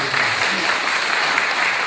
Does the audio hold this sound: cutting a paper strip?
no